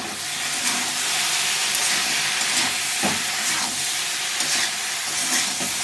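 Soya filling with chat masala and garam masala roasts in a pan over a high-to-medium flame, giving a constant loud sizzle and hiss broken by the scrape and clatter of stirring, with no one talking.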